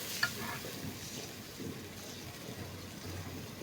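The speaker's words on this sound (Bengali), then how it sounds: "মশলাটাকে খুব ভালোভাবে কষিয়ে নেওয়া হবে।" Ground mustard, onion, ginger, garlic and dried and green chilli paste stir-fried in a pan for a fish curry, giving a steady, close sizzle with soft scraping stirs throughout and no talk.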